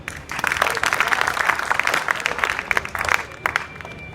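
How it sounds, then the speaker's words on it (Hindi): Students in a school hall at Vidya Inter College clap together, a close, crisp burst of many hands that carries on with uneven peaks for about four seconds. "मैडम, वेरी गुड, क्लैप करो इनके लिए।"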